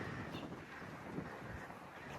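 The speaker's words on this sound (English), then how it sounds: "It's pretty windy." Steady wind buffets the microphone, a continuous low rumble and hiss outdoors with no voices, holding at moderate level throughout.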